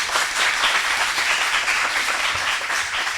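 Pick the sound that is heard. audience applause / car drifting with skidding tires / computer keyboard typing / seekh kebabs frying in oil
audience applause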